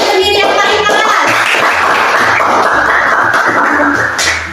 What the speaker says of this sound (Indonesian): Tepuk tangan untuk diri sendiri yang paling keras